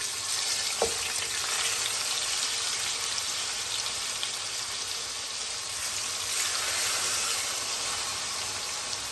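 A pot of water churns at a rolling boil, a constant bubbling hiss filling the space evenly from start to finish, with a single faint knock near the beginning.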